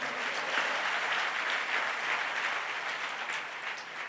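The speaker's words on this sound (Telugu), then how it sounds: "కొట్టండి చప్పట్లో." A church congregation at a fasting prayer service claps together in a sustained, dense burst of applause that stays loud and steady throughout.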